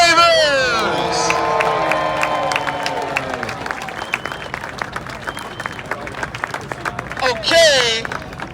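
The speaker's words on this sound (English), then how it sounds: "Can everybody please give a huge round of applause for Sean" Crowd at a Nashville SC 2024 home jersey reveal party applauding and cheering loudly, the clapping swelling early and then settling into scattered claps and chatter with brief whoops, under a voice over the PA.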